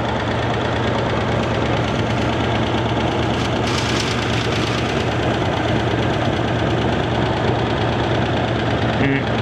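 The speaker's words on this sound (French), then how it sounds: "je pencherais plutôt pour claquement d'origine moteur plutôt qu'une fuite d'échappement" 1966 Oldsmobile Delta 88 coupe engine running with a steady knocking clatter, loud and constant throughout, with a voice talking over it.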